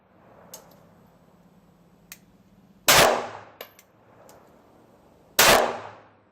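Two sharp, loud shots from a Ruger LCP II compact pistol fired at a target, spaced about two and a half seconds apart, with fainter clicks and small handling noises between them.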